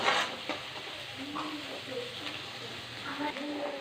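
Onions sautéing in a pan for dried fish thokku, a soft steady sizzle with light scraping stirs, quiet and close.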